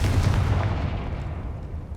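A Confringo explosion spell from Hogwarts Legacy, a deep low boom that starts loud and decays into a rumbling tail over two seconds.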